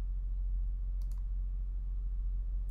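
Two quick mouse clicks come close together, crisp and near, over a low steady electrical hum and otherwise quiet room.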